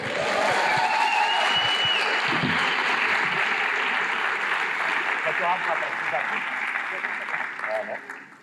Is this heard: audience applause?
yes